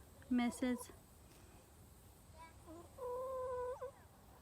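A cat meows twice in short, whiny cries, then gives a longer drawn-out meow a few seconds later, fairly close, over a quiet outdoor background.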